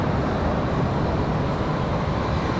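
Delta Airbus A320 at Raleigh Durham airport, heard as a steady, loud, broadband jet roar that holds evenly from start to finish with no talk over it.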